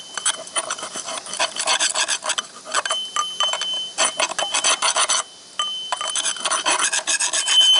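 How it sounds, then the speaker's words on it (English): Threads of a long bolt scrape old silicone out of bolt holes on a big truck's auxiliary gearbox: loud, close, rasping strokes in quick repeated bursts, each grinding back and forth with brief pauses between. "Threads on the bolt will cut that silicone off of there."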